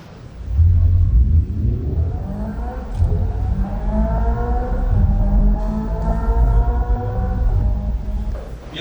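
Synthetic engine sound from a Hyundai Ioniq 5 N electric car, a loud rumbling roar that climbs steadily in pitch like a revving engine, easing briefly around three seconds before rising again.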